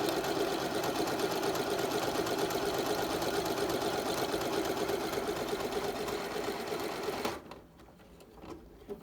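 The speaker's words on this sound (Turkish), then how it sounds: "Makine duruncaya kadar da iliklerde pedaldan ayağımızı çekmiyoruz." A Bernette b38 sewing machine stitches a buttonhole with a steady, close mechanical whir that runs unbroken for several seconds, then cuts off abruptly near the end, leaving faint small noises.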